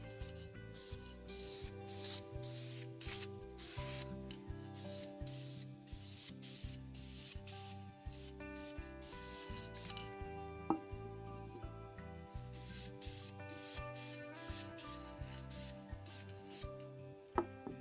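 DEF lacquer sanding sealer sprayed onto a cedar vase in a woodturning shop, a series of short hissing aerosol bursts in a steady rhythm over a constant lathe-like hum, close and fairly quiet.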